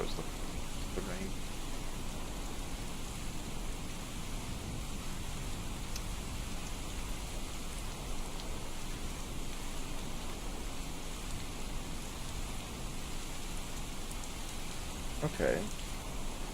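Steady, even rain hisses in the Skyrim video game, a constant broadband patter with no breaks and a faint brief knock near the end, while someone talks in the background.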